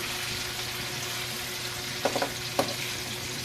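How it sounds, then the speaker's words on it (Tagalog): Steady crackling sizzle of tofu frying in hot oil, continuous throughout, with a few brief clinks or scrapes near the end. "Kailangan ipiprito muna natin bago lagyan ng iniling."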